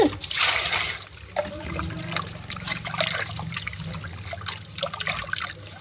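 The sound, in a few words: water poured while washing fish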